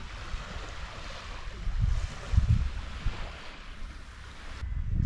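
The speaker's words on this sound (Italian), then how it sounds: "sempre con il rumore del mare a fianco da notare" Sea waves washing beside a breakfast table on the coast of Cefalonia, low rumbling surges under wind buffeting the microphone, swelling midway and again at the end.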